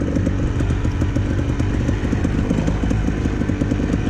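Dirt bike engine revving steadily and loudly during a hill climb at Hobble Creek, a continuous close-up buzzing roar with rapid firing pulses and no pauses.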